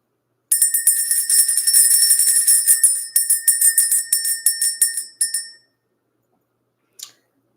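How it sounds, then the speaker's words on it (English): A bell rung to clear energy gives a fast, bright, sustained ringing for about five seconds, then stops, followed by one brief faint ring. It is close and loud, with no voices. "Let's ring the bell."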